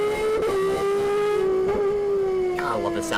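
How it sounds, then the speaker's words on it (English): Race car engines in the BeamNG driving game scream at sustained high revs on an oval track with chicanes, a steady loud whine holding pitch throughout with brief tyre noise, and a voice talking underneath. "God, I love the sound of these cars."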